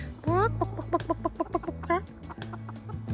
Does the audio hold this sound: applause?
no